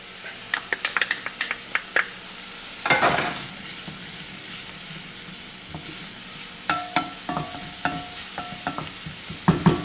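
Garlic hits a hot pan and bursts into a loud hiss, settling into a steady sizzle punctuated by close, sharp utensil taps and scrapes, with no speech.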